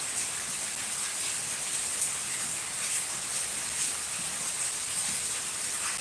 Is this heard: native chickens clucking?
no